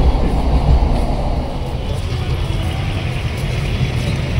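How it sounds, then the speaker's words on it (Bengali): A nearly empty local train runs steadily, with a loud, continuous low rumble and wheel-and-carriage noise filling the whole stretch, with no voices on top. "ট্রেনে উঠে পড়েছি, লোকাল ট্রেনে।"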